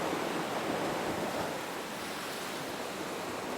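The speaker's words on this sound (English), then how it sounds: "The sound of the mighty ocean presents itself as a deep roar and low hissing and splashing sounds." Ocean surf below a sea cliff roars in a steady, broad wash of hissing and splashing water, loud and continuous with no voices.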